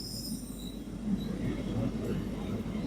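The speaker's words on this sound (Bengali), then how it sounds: "যাদবপুরে এসে সঙ্গে সঙ্গে ট্রেনও এসে গেছে" A train arriving at Jadavpur station in Kolkata, with a steady low rumble of rolling wagons that swells slightly partway through, plus faint high squeals of wheels on rail.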